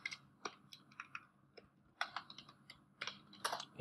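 Java code is typed on a computer keyboard in quick, uneven bursts of soft key clicks with short pauses between them, close and fairly quiet.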